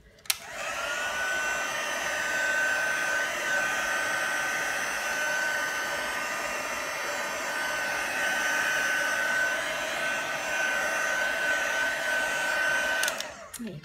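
A heat tool sets embossing on an art journal background with a steady, loud blowing whir that runs for about thirteen seconds and then clicks off.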